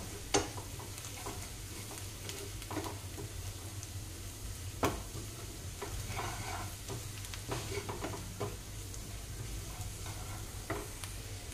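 Spices such as turmeric and red chilli powder being stirred into onions frying in a pan, with a quiet steady sizzle and occasional scrapes and taps from the spoon, heard close with no talking.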